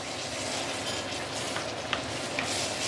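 Seafood sautes in plenty of oil over medium heat, a steady close sizzle and crackle with occasional scrapes of stirring, no voices.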